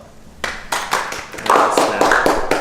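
Light, uneven clapping from a small group, swelling a little toward the end, with no talking over it.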